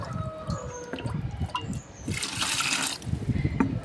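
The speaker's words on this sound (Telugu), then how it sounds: "ఆ టీ వేస్ట్ వాటర్ అండి ఇవన్నీ కూడా వీటన్నిటిని కూడా ఇందులో వేసేస్తున్నాను" Leftover tea waste water poured into a kitchen-waste compost container for plant fertilizer, a trickling, splashing pour that swells midway, fairly close and moderately quiet with background noise.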